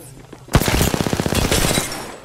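Rapid gunfire from the Kraber sniper rifle in Apex Legends bursts in suddenly after a quiet start, a loud, fast run of repeated shots lasting well over a second before tapering off.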